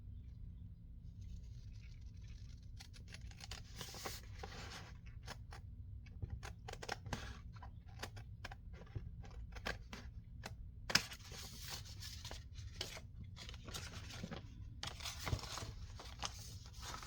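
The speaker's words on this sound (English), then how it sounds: "I'll just get these edges cut off" Paper edges being trimmed with scissors while making a vintage bee-themed junk journal: a run of quiet, irregular snips and crisp paper rustles over a low steady room hum, close by and faint.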